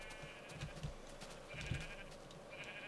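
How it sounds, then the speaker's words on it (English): Sheep bleating in a Minecraft pen during a mass sheep migration, several short wavering bleats from a flock repeating over a steady hum of game ambience. "I have an army of sheep."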